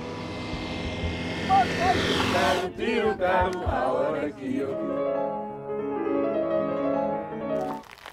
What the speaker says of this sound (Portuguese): vamos ter que aguardar que o avião do Dr. Loureiro está aí a chegar